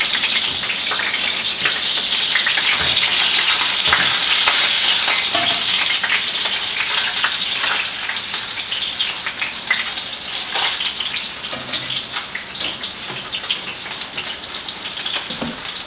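Halibut fries in hot oil in a pan, giving a loud, dense sizzle that runs without a break, with crackling spatters rising and falling up close.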